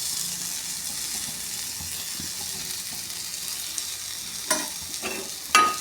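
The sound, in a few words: masala dosa cooking in ghee on a pan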